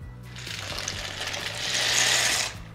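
Dry pasta shells pour into a cooking pot in a steady rattling, clattering stream that swells louder toward the end, close and alone with no talk.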